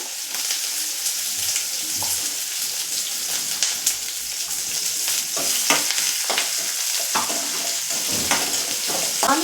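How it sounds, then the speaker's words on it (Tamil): Curry leaves and chopped onion sauté in a hot pan with a steady, dense sizzle, punctuated by several sharper scraping stirs and clinks of the spoon against the metal. "அதையும் போட்டு அதை போட்டு வதக்கிடுவோம்."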